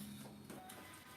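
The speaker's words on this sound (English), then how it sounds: "I have an error on my printer paper out, so I'm just going to go ahead and unload this really quick." An Epson Stylus Pro 7800 large-format printer unloads paper after a paper-out error, giving a brief faint mechanical whir with a short motor tone and light clicks, close and without talk.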